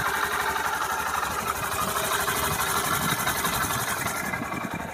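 A Honda SP 125 motorcycle engine idles steadily right after starting, a close, continuous mechanical rumble with a fast regular beat and no talking.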